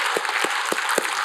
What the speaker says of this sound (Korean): 우리 하나님께 영광의 박수드립니다.